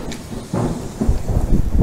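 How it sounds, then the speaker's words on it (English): Thunder from an approaching storm rumbles low and heavy outdoors, rolling in a few deepening swells that grow louder toward the end. "The storm's definitely coming from over this way."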